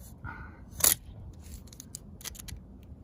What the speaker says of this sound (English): This is most likely this is just caulk, and I'm going to cut it.